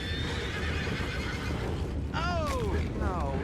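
Horses in the Red Dead Redemption 2 video game whinny twice near the end, loud descending neighs over a constant low murmur of background noise.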